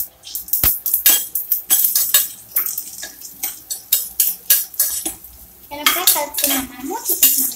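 A spoon scrapes and clinks steadily against a pan as a fried snack mix of black-eyed peas with dried red chillies is stirred, with rhythmic metallic knocks and a faint sizzle in between, close and fairly loud.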